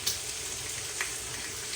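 Bacon frying in a pan gives a faint, steady sizzle with a few soft crackles, quiet and continuous.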